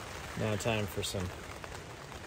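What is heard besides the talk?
rain falling on tent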